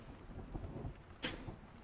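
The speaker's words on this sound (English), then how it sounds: "started raining heavily" Heavy rain pours steadily as a faint, diffuse wash, with a brief louder surge partway through and no voices.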